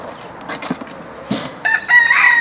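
Roosters from a red mottled breeding flock crow close by in a short burst, with a few clucks before a loud, drawn-out cock-a-doodle call near the end. No one speaks.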